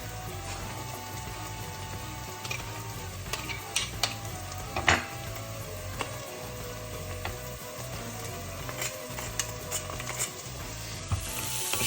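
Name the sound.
coriander stems and crushed garlic sizzling in pan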